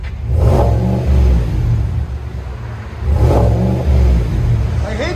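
Close, loud 2021 Chevy Silverado 6.2L RST Z/71 V8 with dual exhaust and a Vibrant resonator, revved twice in short bursts that hit the rev limiter and fall back to a deep rumbling idle, no talking.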